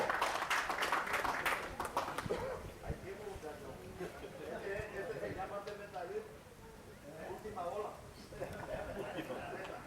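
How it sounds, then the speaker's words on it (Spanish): Audience applause at a horse auction, breaking out right after a filly sells, as a dense wash of clapping from a crowd, with speech running over it throughout. "El aplauso."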